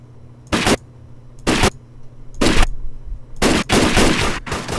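M16 rifle fire in the video game Rust rings out in loud, close bursts. Three separate shots are followed by a quicker cluster of rapid shots.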